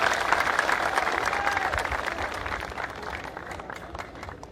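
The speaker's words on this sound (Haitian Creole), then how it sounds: "On applaudit." A crowd applauds at Louis Farrakhan's visit and address, a dense, steady wash of clapping that holds throughout and eases slightly toward the end, with a faint voice rising briefly through it.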